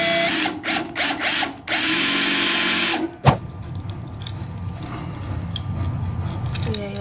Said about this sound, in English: it's the wrong size drill bit for one